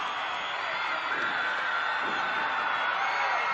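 Wrestling crowd at a 1987 UWF tag match in an arena, a steady, loud wash of cheering and crowd noise with no clear breaks, sustained throughout.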